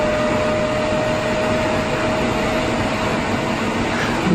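Apple Xserve servers powered on together, their fans spinning up into a loud, steady broadband whir with a faint constant whine, no talking.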